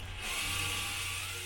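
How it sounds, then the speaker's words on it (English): A steady, high-pitched power drill whine runs continuously while drilling a hole in a steel gas cylinder, close and fairly loud, with a low mechanical hum underneath. "We'll just drill now this bottom hole"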